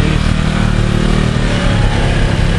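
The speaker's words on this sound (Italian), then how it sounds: "dai che vengono i motorino" Motorbikes at a cycling hill-climb time trial give a steady, loud, continuous engine drone that stays close and constant throughout.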